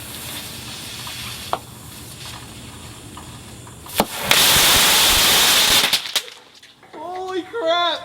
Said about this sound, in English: I put one mic on each side of the fireworks so that I could record the explosion in stereo